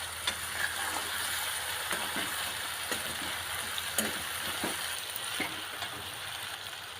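Tindora and potato curry sizzles steadily in a pan on a home stove while a spoon stirs it, soft scraping taps breaking through the continuous frying hiss.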